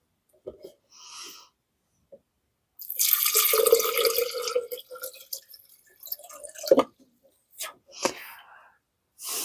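Water pours into the jar of a 1970s Waring blender, model 11-254, a splashing, rushing stream for a few seconds followed by scattered drips and small knocks, close and moderately loud.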